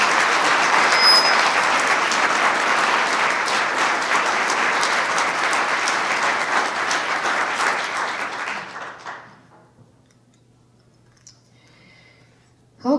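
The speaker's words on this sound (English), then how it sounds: "Can we have another round of applause?" An awards-ceremony audience applauds for scholarship recipients in a hall, dense loud clapping lasting about eight seconds, then fading out into near silence with a brief sound at the very end.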